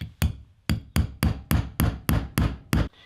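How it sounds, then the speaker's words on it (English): A hammer strikes a flathead screwdriver used as a chisel against glued-in bait in a Deps 250 swimbait. Nine sharp, close metallic taps land in a fairly steady rhythm with short pauses between, and no talking. "grab that flathead that we used before, grab like a hammer, and then kind of just start chiseling"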